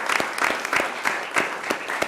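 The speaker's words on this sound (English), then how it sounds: "I'd like to ask for a round of applause for Katie for acting as interim city manager" A round of applause at a city board of commissioners special meeting honoring an interim city manager: steady, dense clapping from a roomful of people, continuous and moderately loud for the whole stretch.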